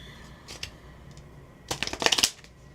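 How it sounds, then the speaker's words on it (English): Tarot cards riffled and shuffled close up: a couple of brief soft shuffles, then a louder burst of rapid crisp riffling that snaps to a stop. "my shuffling has gotten weird"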